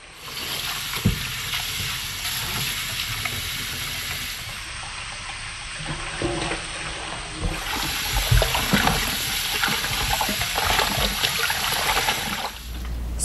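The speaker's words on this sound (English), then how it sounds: "Rinse the pig feet in cold water 3 times to remove the scum." Water runs and splashes in a sink as pig feet are rinsed by hand in cold water, with occasional knocks and sloshing, close by and continuous.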